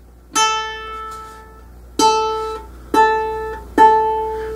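Guitar string plucked near the bridge, four separate bright twangy notes each ringing out with strong upper harmonics and decaying, close and clear with no talking.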